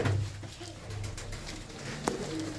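Rajan and Sadh Ghanda Banna pigeons give low, repeated coos nearby, a few throaty purrs spaced through the moment amid faint background rustle, with no speech.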